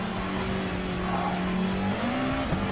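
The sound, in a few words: race car braking hard at Monza, racing video game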